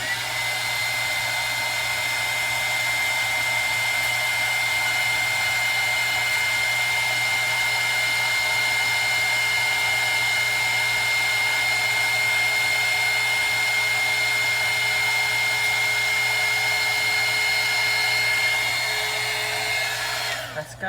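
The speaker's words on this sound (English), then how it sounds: "And then we're going to hit it with the glue gun to dry it." A heat gun blows hot air to dry glue on a handmade craft piece, a loud, steady whooshing drone with a constant motor tone that runs unbroken for the whole stretch and stops abruptly at the end.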